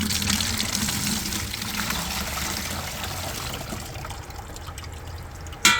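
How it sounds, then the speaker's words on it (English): Natural dye liquid poured from a pot into a container for dyeing wool, a steady close splashing trickle running for several seconds and thinning out, with a sharp clink at the end. "I'm just going to take the pot and pour it into here"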